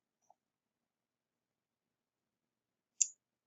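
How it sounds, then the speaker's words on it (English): A single sharp computer mouse click sounds close by while navigating a Canvas course page. It comes after a long near-silence with only a faint tick early on. "So I'm clicking on the course right now."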